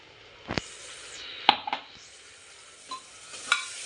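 Ginger-garlic paste goes into a hot pan for biryani and sizzles, with a soft frying hiss under a few sharp spoon scrapes and clinks against the pan as it is stirred.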